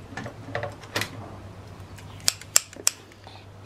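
Scissors snip through tulle fabric, cutting it into a circle with three crisp, close snips clustered near the end, over a quiet room background.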